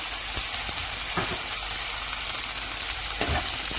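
Okra shallow frying in oil over high heat, a loud, continuous close-up hiss with a few brief stirring clatters, no talk.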